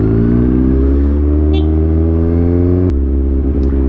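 A motorcycle engine revs loudly and close, its steady harmonic drone rising in pitch as the throttle opens, with a sharp clack near the end and no talking.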